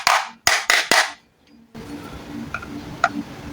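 Four sharp taps on the stuck part of a MODOFO air mattress pump to loosen it, quick and close in an uneven rhythm, followed by quiet room noise with a couple of faint clicks.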